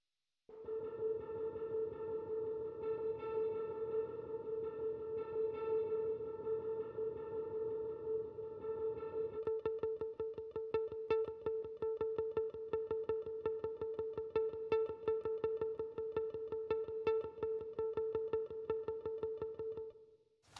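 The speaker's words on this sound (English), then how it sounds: "That's the reverb by itself" A guitar part's reverb is heard on its own as a wet signal: a sustained, washy ringing tone holds steady throughout and takes on a fluttering, pulsing texture in its second half, with no voices.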